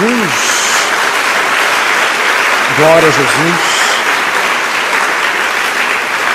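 A church congregation gives sustained, dense applause in praise of Jesus, with a voice briefly calling out over the clapping partway through.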